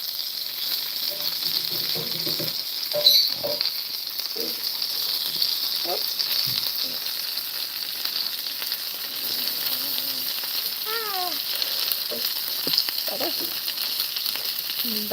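Chicken and broccoli cook in a pan with a steady, moderate sizzle that runs throughout, with a few soft clicks and faint voices in the background.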